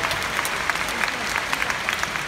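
Steady applause from a large audience at a Hong Kong annual company meeting, dense and continuous clapping with a few sharper claps standing out, close and fairly loud throughout.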